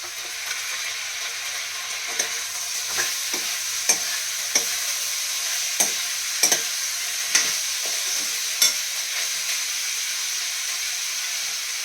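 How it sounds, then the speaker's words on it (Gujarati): Tomato going into a Gujarati cauliflower and potato curry as it fries, with a steady hiss and sizzle throughout and sharp spoon and pan clicks as the pieces are stirred in, close and without talk. "હવે આપણે આમાં ટમેટું નાખશું,"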